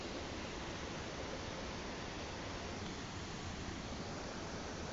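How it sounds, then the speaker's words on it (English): Rushing water pours continuously over rocks, a dense, steady broadband roar close by with no voices. "there's a good amount of water coming over the rocks"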